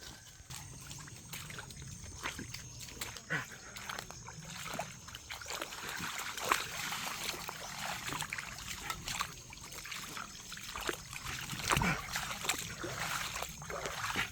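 Water trickling and babbling steadily through a creek outdoors, a continuous close splashing flow with small irregular gurgles, no voices over it.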